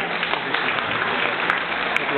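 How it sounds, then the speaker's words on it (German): A crowd at a children's Christmas party applauds in a dense, steady wash of clapping that holds for the whole stretch. The sound is slightly muffled and has a background murmur mixed in. "Applaus für Dr. Moser mal"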